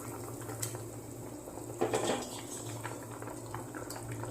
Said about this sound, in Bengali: ঝোলটা আমার ফুটে উঠেছে বন্ধুরা।